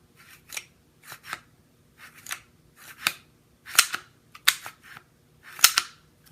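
An IFC Strike ONE pistol is cycled by hand, giving eight or so sharp metallic clacks and clicks in an uneven rhythm, close and fairly quiet against a silent room.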